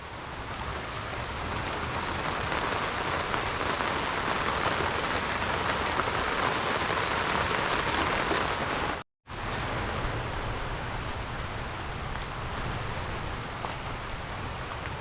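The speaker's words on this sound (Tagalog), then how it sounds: "Ulan." Heavy rain pours down steadily as a dense, close hiss over a garden of sunflowers, broken only by a brief cut in the sound, with no talk.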